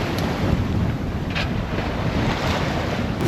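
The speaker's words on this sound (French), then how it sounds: "Autant dire que le vent s'est un peu levé." Strong wind buffets across open water during a sailboat regatta, a constant roaring rush with waves washing underneath, loud and unbroken throughout.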